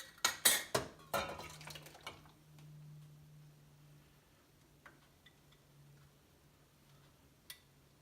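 Metal pans clattering and clinking as dried herbs such as mullein, lobelia and uva ursi are tipped from jars into them, a quick burst of sharp nearby knocks at the start, then a low hum with occasional isolated taps.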